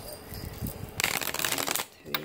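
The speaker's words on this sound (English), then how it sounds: "I shuffle a couple more times. Let's shuffle." Tarot cards being shuffled by hand, a quiet voice and soft handling first, then a close burst of rapid riffling flutter for about a second, and a brief final snap of cards.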